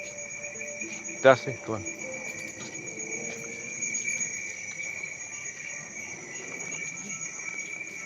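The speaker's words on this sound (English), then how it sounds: "I don't think that those cricket sounds are real" Steady high cricket chirping, probably played from a speaker indoors, runs faint and continuous throughout. A brief loud knock comes early, and a voice speaks a few words over it.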